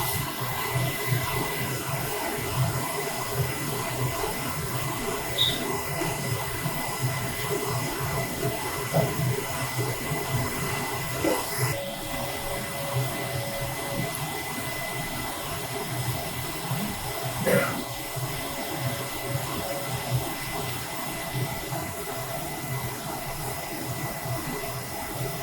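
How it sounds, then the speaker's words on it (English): A Focus Alpha Max 6250 printer runs a strong head cleaning, a steady mechanical whir and hiss throughout, with occasional faint clicks and a brief tonal whine partway through. "So now the printer starts to do the head cleaning automatically."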